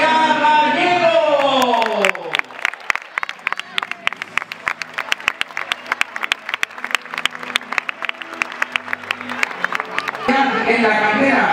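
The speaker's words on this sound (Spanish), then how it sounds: "Un fuerte aplaudimiento a Adrián Gallego." Stadium crowd applauding a football player's presentation for CD Castellón, a sustained roar of clapping and cheering for several seconds, with an announcer's amplified voice before and after.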